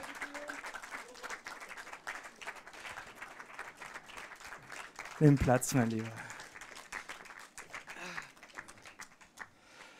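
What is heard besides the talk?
audience applause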